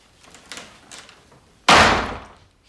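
A door slams shut with a single loud, sharp bang that rings out and decays over about a second, following some faint shuffling and movement indoors.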